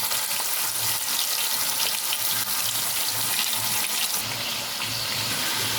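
Chicken pieces frying in a pan give a steady, close sizzle and crackle with a watery hiss that runs on unbroken throughout.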